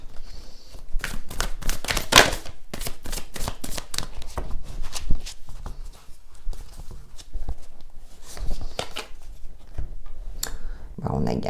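Oracle cards being shuffled, a quick run of crisp riffling flutters and soft slaps repeating through the clip, close and fairly loud, with someone speaking over parts of it.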